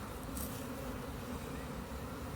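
A bee buzzes close around a beekeeping suit during an outdoor hive inspection, a steady, loud droning hum with no talk over it.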